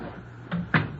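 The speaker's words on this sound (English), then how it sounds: "And we will close the door." A parlor door in a radio drama swings and shuts with a short creak followed by a solid wooden thud, close and clear over a low room hum, with no speech.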